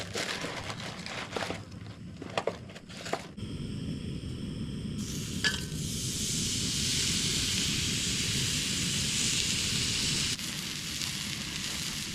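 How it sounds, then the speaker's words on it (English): Hamburgers for cheeseburgers sizzle as they cook, a steady broadband hiss that swells after a few seconds of clattering handling sounds and then holds fairly loud to the end. "Got myself some hamburgers to cook up here"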